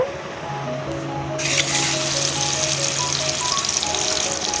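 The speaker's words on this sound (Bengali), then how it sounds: "এইখানে আমি ডিমটা ফ্রাই করে নেব" Eggs frying in oil in a wok for egg malai curry, a sizzle that swells suddenly and then hisses steadily and close, with faint tonal hum beneath.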